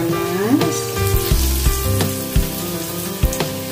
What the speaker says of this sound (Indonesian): Saatnya kita goreng.